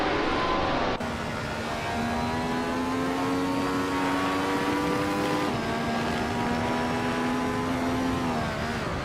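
A 1967 Cooper T81B racing car engine in a racing video game drones loud and continuous, its pitch climbing steadily and dropping back at gear changes.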